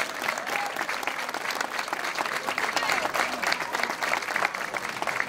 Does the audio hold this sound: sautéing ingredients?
no